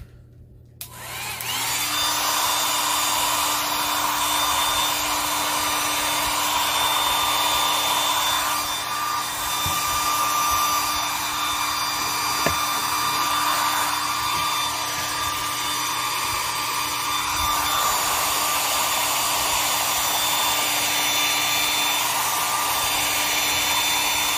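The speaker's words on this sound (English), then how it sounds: "I gotta blow dry that because that's still really wet" A hair dryer blowing on a wet decoupage recipe box, starting up after a brief quiet moment and then running as a loud, continuous steady whir with slight variations.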